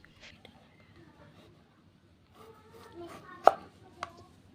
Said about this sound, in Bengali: এখন আমি মাঝখান থেকে আলুটাকে তিন ভাগে ভাগ করে কেটে নিচ্ছি